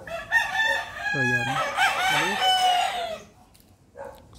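Chickens at a backyard farm of about 700 square meters crow and cluck loudly nearby, with one rooster's long crow dominating and other birds overlapping, followed by a short trailing call; a voice speaks briefly.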